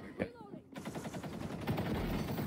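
Automatic AK-class rifle fire in a first-person shooter game, a rapid strafing burst of repeated shots that keeps going close and loud after a brief quieter moment.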